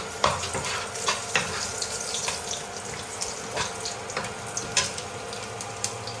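Whole spices (cardamom, star anise, cinnamon, cloves and mace) frying in hot oil in a pan for Bengali jackfruit kofta, a steady close sizzle broken by occasional scraping stirs, with no talking.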